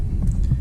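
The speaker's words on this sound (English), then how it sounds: "my trolling motor, I've got it on spot lock" An electric trolling motor holds a bass boat on spot lock along a grass edge on Guntersville, giving a steady low hum with a soft throbbing pulse, close and continuous.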